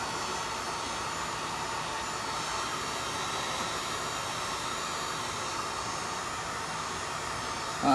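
A heat tool blows low heat over scorch-marker lines on wood, giving a steady, close, hissing blower rush that holds evenly throughout.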